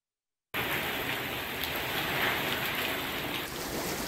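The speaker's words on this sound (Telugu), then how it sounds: "అరవల్లి జిల్లాలో జోరుగా వర్షం కురుస్తోంది." Heavy rain falls in a dense, continuous hiss that starts abruptly after a short silence and holds steady and loud to the end, with no voices.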